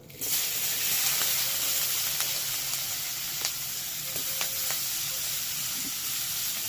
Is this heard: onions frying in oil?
yes